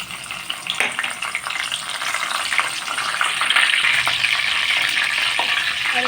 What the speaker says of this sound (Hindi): अब जो है थोड़े से कड़ी पत्ते हैं वो डाल दूँगी मैं।